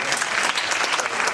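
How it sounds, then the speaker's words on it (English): A comedy club audience in Nashville claps in a brief, dense burst of applause that stays steady, then fades out. "Was that a pity clap?"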